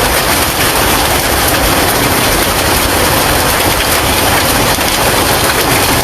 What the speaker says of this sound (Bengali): প্রচুর পরিমাণ বৃষ্টি হইতেছে সাথে বাতাস জোর তুফান হইতেছে এখনও কিন্তু শিলাবৃষ্টি হইতেছে প্রচুর পরিমাণে